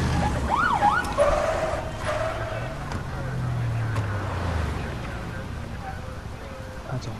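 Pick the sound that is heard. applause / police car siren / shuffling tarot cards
police car siren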